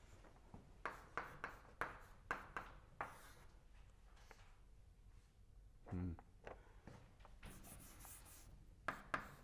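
Marker or chalk writing on a board during an advanced quantum theory lecture, a series of short scratchy strokes in irregular bursts with a lecturer speaking between them.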